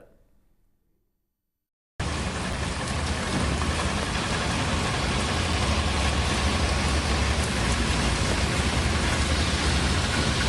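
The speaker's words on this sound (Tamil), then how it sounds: "நேற்றுலேருந்து மழை சிம்சியாக பெய்யுது" Rain falls in Tamil Nadu. After about two seconds of near quiet, a dense, even hiss of heavy rainfall sets in and holds at a steady, loud level.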